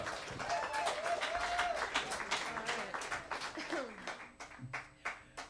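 Audience clapping after a New Orleans jazz band's members are introduced, a crowd's applause sounding throughout alongside a voice speaking over it, the clapping gradually thinning and breaking into scattered individual claps toward the end.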